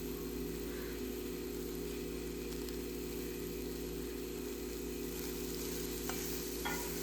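Finely chopped beans with turmeric are stirred and fried in a pan for a South Indian poriyal. A steady sizzle continues throughout, with soft scraping from the stirring, close and with no talk.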